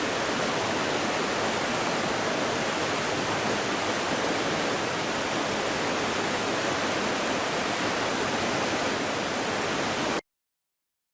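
Welton Falls in Rumney, New Hampshire, glimpsed through trees, gives a steady, dense roar of falling water, loud and unbroken for about ten seconds before cutting to silence.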